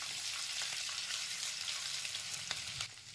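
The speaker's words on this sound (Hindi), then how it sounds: "और इसको हल्का सा भून लेंगे।" Ginger garlic paste fries gently in a pan for green peas dal, a soft, steady sizzle with a few light stirring clicks, fairly quiet and close.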